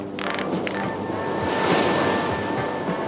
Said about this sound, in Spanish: ¡Cuidado! ¡El viento está cambiando! ¡Es una tempestad!